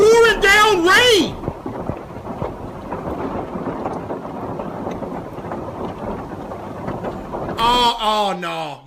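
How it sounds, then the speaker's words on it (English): Heavy rain pours down steadily as a dense, constant wash of noise. Loud voices break in at the start and again near the end. "And it's pouring down rain!"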